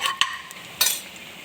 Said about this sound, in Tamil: எண்ணெய் காய்ந்ததும் கடுகு பொரிந்ததும் காய்ந்த மிளகாய் ரொம்ப சிறப்பாக வச்சுக்கணும்